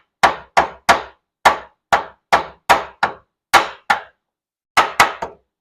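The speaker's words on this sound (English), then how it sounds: "take your hammer, tap it down a little bit, and then hit that little tab back down" Hammer tapping a valve cover gasket into place on a 2004 Toyota Sienna engine, a dozen sharp metallic taps in small uneven groups, close and clear with no voices.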